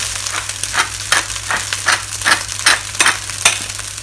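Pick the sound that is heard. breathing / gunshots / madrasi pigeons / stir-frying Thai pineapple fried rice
stir-frying Thai pineapple fried rice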